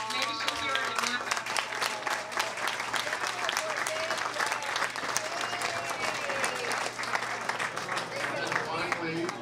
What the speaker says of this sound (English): And if you guys clap, maybe she'll hear it in Napa.